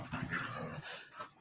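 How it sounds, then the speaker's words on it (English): Dogs bark and yip in a short burst at home, somewhat distant and muffled, with panting or whimpering mixed in. "My dogs are barking."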